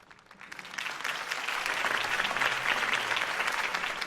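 Crowd applause after a political campaign speech in a Batman video game, clapping swelling from quiet to a full, sustained roar that holds steady.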